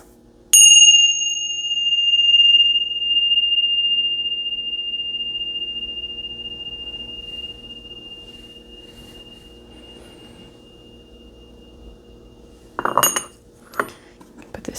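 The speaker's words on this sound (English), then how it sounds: "Ring the bells." A bell struck once during a tarot reading rings out with a clear, bright tone that sustains and slowly fades for many seconds, followed by a brief clatter of handled objects near the end.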